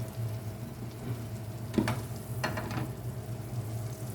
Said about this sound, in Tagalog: Magprito na tayo ng ating salmon.